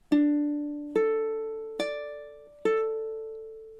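Measure 12 of a song played on ukulele: four clear plucked notes or chords spaced evenly, each ringing out and fading before the next, close and alone with no talking.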